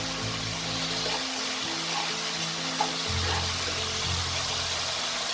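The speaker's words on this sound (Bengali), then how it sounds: "দিয়ে এটাকে আরও 1 মিনিটের মতো নাড়াচাড়া করবো যতক্ষণ না টমেটোটা আমার নরম হয়ে যাবে" Chopped tomatoes with salt fry in a pan, a steady hiss and sizzle with occasional scraping and stirring clicks, close and even throughout with no talking.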